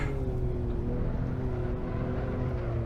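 Engine drone from a sports car in Assetto Corsa on a Pikes Peak hill-climb course, a steady loud whine with pitch sliding slightly downward as the driver drops gears for hairpins, no talking.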